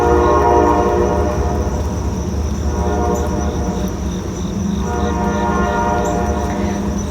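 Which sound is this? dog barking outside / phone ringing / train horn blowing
train horn blowing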